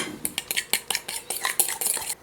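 Metal spoon scraping and tapping against a sieve as cocoa cookie dough mixture is pushed through, a quick irregular series of bright clinks and scrapes, close and alone.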